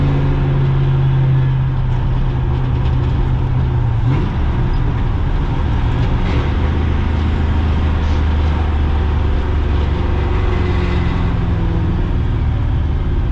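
A Chevy K30 square-body truck with a swapped 6.0 LQ4 engine and a welded rear end, heard from inside while driving: a loud steady engine drone with road rumble, pitch dropping on a gear change about four seconds in, no talk.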